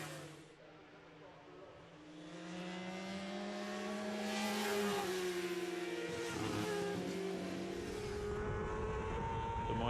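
Road racing motorcycles lapping Aberdare Park circuit, engines rising and holding at a loud, high-revving whine as machines pass fairly close, with a commentator's voice running over the din.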